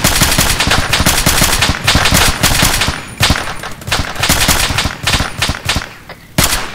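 Rapid bursts of automatic gunfire in the ArmA 3 military video game, dense repeated volleys with brief pauses, loud and close throughout with no talk.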